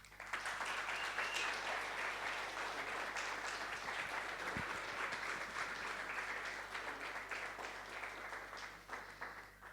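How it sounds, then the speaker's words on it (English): Applause from the audience at the Urbe Hub opening for the Urbe.eth community, a dense, steady wash of many hands clapping that fills the room for about ten seconds, with no one speaking over it. "So please, a big applause for the Urbe.eth community so far"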